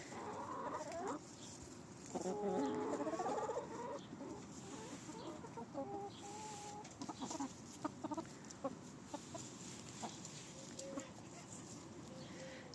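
Chickens cluck and chatter close by in short bursts, with a busier flurry of calls early on as they are let out of their coop into a garden, over a steady outdoor background.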